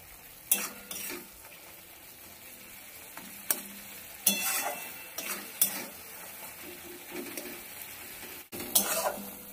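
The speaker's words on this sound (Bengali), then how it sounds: "ভালো করে কষিয়ে নেব।" Mutton masala curry stir-fried in a pan with tomato, onion and sour yogurt: a low steady sizzle broken by repeated sharp scraping strokes of a spatula at an uneven rhythm, close and alone.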